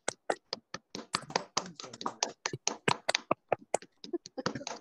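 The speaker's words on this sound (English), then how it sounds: "If you could all unmute yourselves, and we'll give them a massive round of applause, please." An online audience claps from their own microphones, a scattered run of sharp, separate hand claps with uneven timing, some near and some faint, with no speech.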